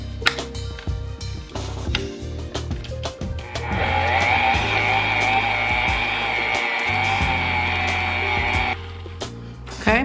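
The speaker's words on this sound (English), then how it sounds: "Now I'm going to allow the extracts, the butter, and the cream cheese to mix for about 30 seconds" Electric mixer beating butter, cream cheese and extracts for a pound cake, a steady whirring drone for about five seconds between clatters and bowl knocks.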